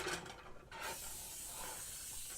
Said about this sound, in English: Spray it liberally with your cooking spray.